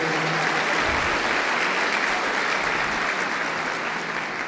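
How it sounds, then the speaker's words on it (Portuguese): A congregation gives a loud round of applause in praise, a dense, continuous roar of clapping that fills the space without pause. "Dê uma salva de palmas com glórias ao Senhor."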